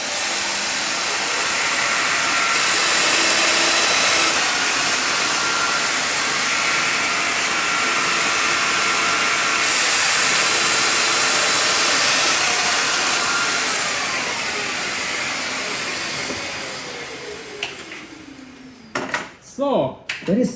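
A Festool Domino DF 700 joining machine cuts mortise holes with a loud, steady whine and rushing dust-extraction hiss for about seventeen seconds, then winds down and stops, followed by brief clicks and handling knocks and a voice at the end.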